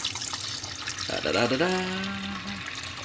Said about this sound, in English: We're going to fill her up with water.